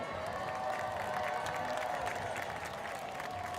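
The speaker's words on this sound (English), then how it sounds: "let's give them a round of applause again" Parade crowd applauding and cheering outside Gallier Hall during a Krewe of Oshun parade in New Orleans, a sustained wash of clapping from many people at a moderate distance.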